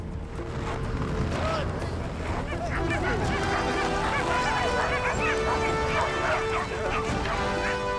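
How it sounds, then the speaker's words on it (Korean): Reindeer herding dogs bark and yip repeatedly on the Yamal tundra over a dense, continuous background of a moving herd, the barking overlapping in quick bursts throughout. "술록치기 개들이 짖는 소리가 들리고 그 뒤를 수백 마리의 술록대가 뒤따릅니다."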